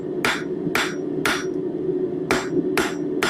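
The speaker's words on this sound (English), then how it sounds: "we're going to glancing blows at the edge of the anvil again to create a tip." A blacksmith strikes glancing hammer blows on the edge of an anvil to draw a tip on hot steel, sounding as six loud, close, ringing hits in an uneven rhythm over a steady forge hum, with no talking.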